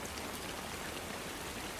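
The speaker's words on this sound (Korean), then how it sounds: "모든 생각을 떨쳐내고 마음을 편안하게 해주는 빗소리를 들으며 오늘도 꿀잠 주무시길 바랍니다" Steady rainfall patters on a surface, a soft, dense and even shower heard alone at low volume with no voices.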